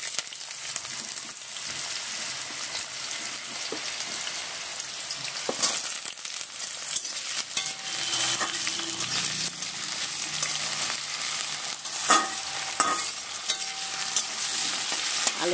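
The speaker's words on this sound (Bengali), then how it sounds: "আলুটা একটু ভালো করে লাল লাল করে ভেজে নেবো" Potatoes fry in oil with a cumin tempering while a mixed vegetable dish is cooked, giving a steady close sizzle with scraping stir strokes and occasional sharper spatters throughout.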